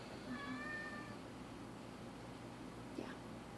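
A house cat gives a soft drawn-out meow early on and a brief faint cry near the end, quiet and somewhat distant over low room noise, with no talking.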